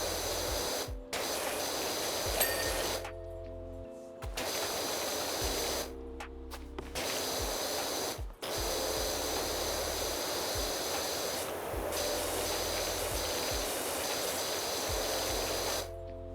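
A pressure washer sprays through a nozzle (not the yellow one) with a loud, continuous hiss that cuts off briefly several times as the trigger is released, then resumes.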